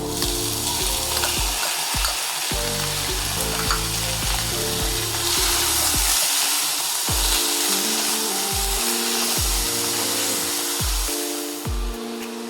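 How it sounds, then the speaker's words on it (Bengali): Chopped onions frying in a pan for shakshuka, a steady loud sizzle with repeated scraping stirs of a spatula throughout, close and continuous. "এবার আমি অনিয়ন্সটা যেটা কুচি করে রেখেছিলাম সেটা আমি দিয়ে দিচ্ছি"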